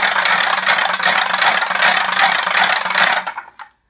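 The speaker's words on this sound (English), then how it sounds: "So you listen out for the sound of the rattle." A wooden WW2 air raid warden's gas rattle is whirled hard, giving a loud, rapid ratcheting clatter that runs for about three seconds and then slows and stops.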